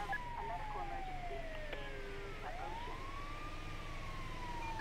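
Ambulance siren wailing in GTA 5, a loud, steady electronic tone sweeping slowly down and back up in pitch over continuous game background noise.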